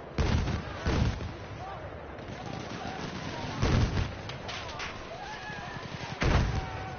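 Mortar fire in the video game Frontlines, several heavy booming impacts spaced a few seconds apart over constant battlefield rumble and distant gunfire.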